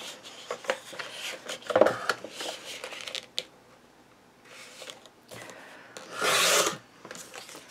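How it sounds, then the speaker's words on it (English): Raspy scraping and rubbing of a paper trimmer slicing a trim piece off craft paper, in several short gritty strokes with a longer, louder cut near the end. "we're going to stick this on our paper cutter, and we are going to cut all the way down to take this trim piece off"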